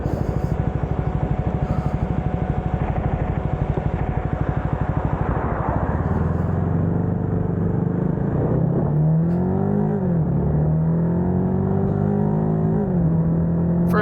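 A Cfmoto 300nk motorcycle engine idles with a rapid, even throb, then pulls away with rising and falling revs as the gears shift, loud and close throughout.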